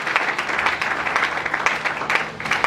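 Church congregation applauding and clapping together in a continuous, lively wash of many hands, fairly close and filling the room.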